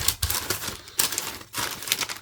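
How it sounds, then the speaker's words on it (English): Crisp tissue paper rustling and crinkling inside a fresh Air Jordan 1 Mid Triple Black shoebox, close and fairly loud, in several bursts of crackle with short pauses between them. "I love it when the paper's like fresh and crispy."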